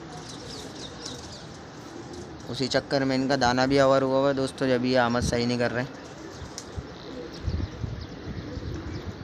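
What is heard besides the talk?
pigeons cooing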